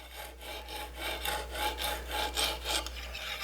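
A knife bevel is ground at a 25-degree setting on a guided sharpener, a steady rhythmic rasping of about a dozen back-and-forth strokes, close and clear with no talk.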